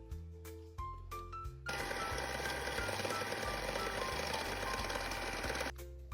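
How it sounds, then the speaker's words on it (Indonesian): An electric mixer runs steadily through cinnamon roll dough ingredients in a bowl, a loud continuous whirring drone lasting several seconds, with short start and stop bursts at the beginning and end. "sekarang kita aduk menggunakan mixer hingga merata"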